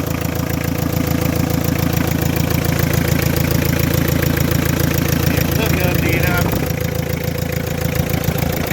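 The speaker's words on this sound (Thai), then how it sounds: "เดี๋ยวผมตาร์เครื่องให้ฟังดีกว่าเอา รถสตาร์ทติดง่ายนะครับ" A 1988 Mitsubishi Cyclone pickup engine idling steadily with a loud, close, rhythmic knocking chug that stays constant throughout, with a slight change near the end.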